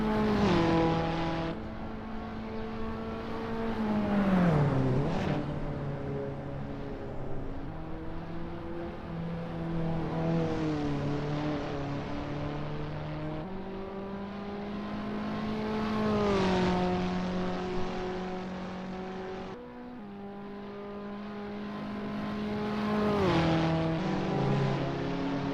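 Abarth 500 engine in the racing game Assetto Corsa, Prague circuit practice: a steady buzzing drone that climbs through the gears and drops on each upshift, sustained and loud, with no voices.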